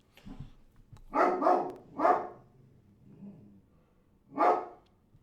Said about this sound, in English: Oh boy, we got the boys barking.